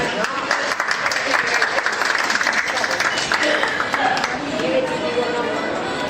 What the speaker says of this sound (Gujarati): આપણે તાળીઓથી વધાવશું.